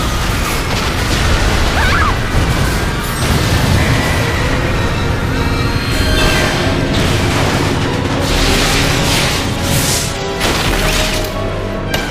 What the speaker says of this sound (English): Now it's time for the ceremonial Soliana fireworks display